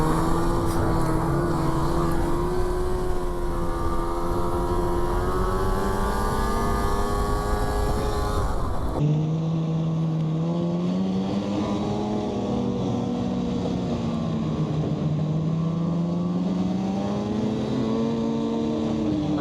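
A snowmobile with an 800 engine rides a gravel stretch on a Wisconsin trail, its engine droning loudly with a wavering, rising and falling pitch and an abrupt shift in tone partway through.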